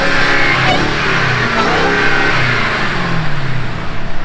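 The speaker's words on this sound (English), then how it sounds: "it has an awesome supercharger whine when this thing is under load" A supercharged engine revs hard under load, a high supercharger whine rising above the throaty roar, loud and close, building steadily.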